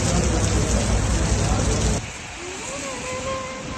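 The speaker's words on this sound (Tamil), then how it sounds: "துபாய் மழையில நனைய தயாரா" Steady rain falling in Dubai, a dense hiss of drops on surfaces that drops suddenly to a softer patter halfway through, with faint traffic-like tones underneath.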